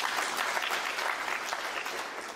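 Steady applause from a snooker crowd at the 2024 World Open greets Judd Trump's century break, a dense continuous clapping that holds evenly at moderate volume throughout.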